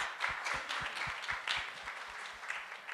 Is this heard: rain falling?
no